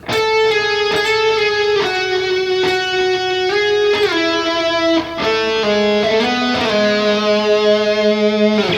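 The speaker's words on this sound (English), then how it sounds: "it sounds something like this for the main guitar part" An electric guitar lick in the style of a well-known guitarist from a rock song, with harmonized lines moving in steps, sustained notes sliding to new pitches, steady and fairly loud.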